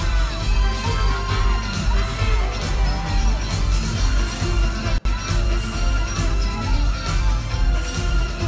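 A concert audience at a show in Panama makes loud, continuous crowd noise, a dense roar of many voices that sustains throughout with only a brief dip.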